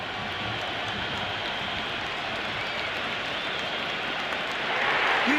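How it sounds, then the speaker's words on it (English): A stadium crowd cheering at a cricket match in the Cricket 26 video game, a steady roaring wash of noise that swells slightly louder near the end, with no commentary over it. "The crowd is electric right now."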